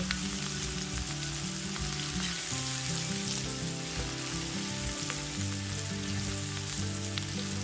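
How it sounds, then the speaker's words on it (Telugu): Ginger garlic paste and turmeric fry in oil, giving a loud, steady, close sizzle with occasional crackles, while a low tonal hum runs underneath. "వెల్లుల్లి పేస్ట్ పచ్చివాసన పోయే వరకు వేయించుకోండి"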